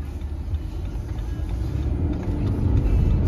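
2017 BMW 3 Series pulling away under acceleration, its engine note building steadily and growing louder close by, with no talking.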